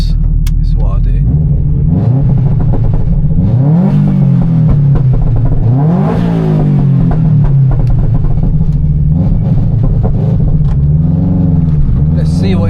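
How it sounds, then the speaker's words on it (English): A 500bhp Subaru estate sits stationary while its engine is revved repeatedly, the loud rumble rising and falling in several swelling bursts over a steady idle. A voice speaks in the car throughout. "We'll just stop here and I'll give you lot some revs."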